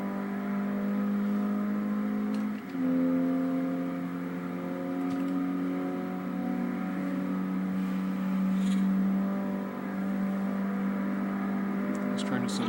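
A 2005 Mini Cooper S engine pulling hard at around 90 to 100 mph, a steady loud drone heard from inside the car with one brief dip as it shifts, no talking.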